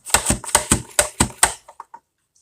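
Potatoes pushed through a Rapid Prep mandoline dicer on the French fry cut, a fast run of about seven sharp clacking chops followed by a few softer, trailing clicks, close and alone.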